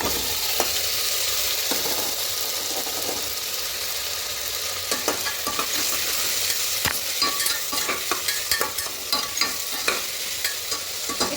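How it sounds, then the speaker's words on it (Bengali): Green chili and ginger paste are stirred in a sizzling pan while a potato curry is being made. Quick, irregular clicks and scrapes of the utensil sound over a constant frying hiss, growing busier toward the end. "হালকা একটু নাড়াচাড়া করে নেব"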